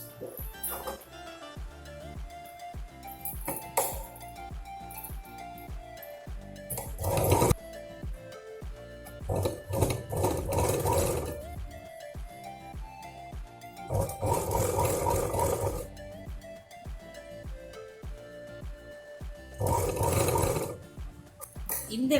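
A home sewing machine stitches an apron in several separate runs, each a loud close whirring burst, with someone speaking in the gaps and quieter fabric handling between them.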